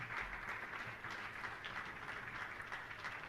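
Audience applause at a Hindi religious question-and-answer gathering, a faint, steady wash of many hands clapping heard from a distance with no talk over it.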